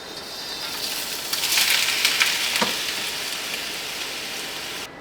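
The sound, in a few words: shrimp sizzling as they are stir-fried in a wok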